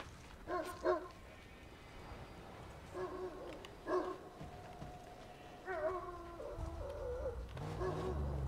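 A dog in the Mad Max game barks in short bursts of two or three, with yips and whimpers between them, at moderate distance over low ambient background noise.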